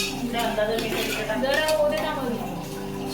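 Biryani masala with onion and tomato stirred in a pot as it cooks in oil, a steady scraping and clinking of a spoon against metal running continuously, with a voice talking over it.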